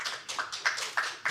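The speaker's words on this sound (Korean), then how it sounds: "네, 박수 부탁드리겠습니다" A few sharp claps from a forum audience at the 2020 Incheon Han River estuary forum, spaced roughly evenly and fairly close, with no talk over them.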